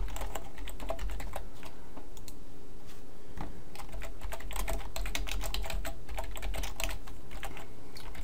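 Rapid, continuous typing on a computer keyboard while entering HTML code, with dense, close, crisp key clicks and clacks running without pause throughout.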